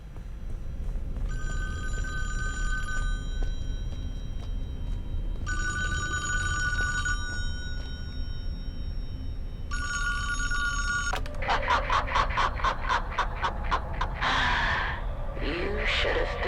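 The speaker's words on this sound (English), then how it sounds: "So I made the phone ring." A telephone in the Friday the 13th video game rings in three separate bursts, each a bright repeating electronic trill, followed by game noises, a gasp and breathy effects over steady background ambience.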